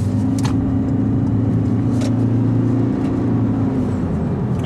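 A 2017 Toyota C-HR 1.8-litre hybrid with e-CVT cruising on the highway, heard from inside as a steady drone of engine and road noise with a couple of brief whooshes, no talking.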